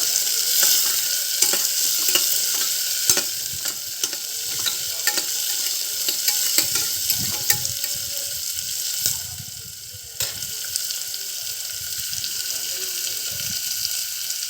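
Green beans being sautéed and stirred in a pan for a simple rice-and-lentil dish, with a steady close sizzle and frequent scraping stir clicks throughout, no talking.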